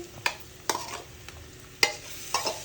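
Onion goes into a hot pan on a home stove, with a soft, steady frying hiss broken by several sharp scrapes and clacks of stirring.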